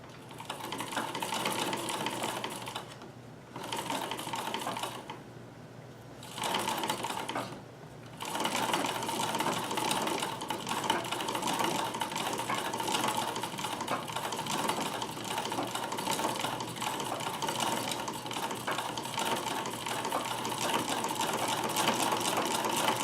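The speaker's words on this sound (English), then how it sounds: "So let us start sewing." A Davis vertical feed sewing machine stitches a zipper in a steady, continuous mechanical hum and clatter, with a few brief stops early on before running evenly and fairly loud to the end.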